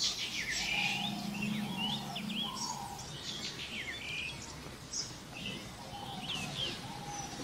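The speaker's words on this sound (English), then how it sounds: "The bird song reaches a crescendo, filling the ear with an eternal chorus." Birds sing in a deep jungle at sunset: bright, repeated chirps and whistled calls, with softer cooing notes underneath, layered into a lively chorus over a low forest hum.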